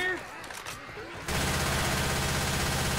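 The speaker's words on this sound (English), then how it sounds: "Another machine gun." Machine gun fire in Left 4 Dead 2 erupts after a quieter stretch of game noise and continues as a loud, dense, sustained rattle to the end.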